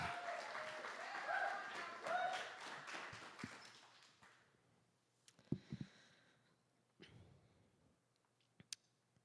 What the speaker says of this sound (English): keep those clapping hands clapping for Poet B.